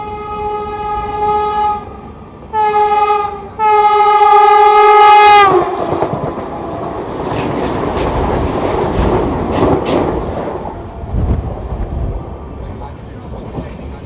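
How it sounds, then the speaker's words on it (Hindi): An oncoming express train sounds several long, loud horn blasts, then rushes past at high speed with a heavy roaring rumble and rattling that slowly fades. A voice is faintly heard. "सामने से कोई ट्रेन आ रही है और हाई स्पीड में आ रही है"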